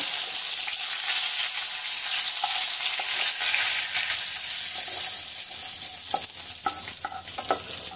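Bori lentil dumplings, bay leaves and dry red chillies fry in hot oil with a loud, steady sizzle, while faint clicks and scrapes of stirring come through toward the end.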